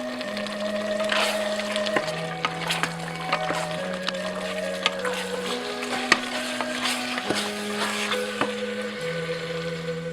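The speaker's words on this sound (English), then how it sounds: "Stir that around a little bit." Soft scraping and sizzling of a cornstarch-thickened sauce for chicken feet being stirred in a pan, set against a low steady hum and tonal background music.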